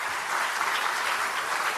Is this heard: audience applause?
yes